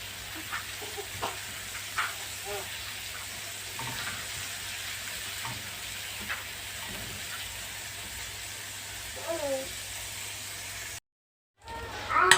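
Garlic fries in oil in a pan for pizza sauce, giving a steady, soft sizzle that carries throughout with a few faint clinks. It drops out abruptly near the end before a brief return.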